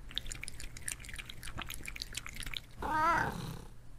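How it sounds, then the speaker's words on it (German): A ghost cat purrs in the horror video game True Fear, a soft close rumble with a brief meow-like tonal cry near the end, over faint dripping and low ambient sound; no voices. "Und sie schnurrt."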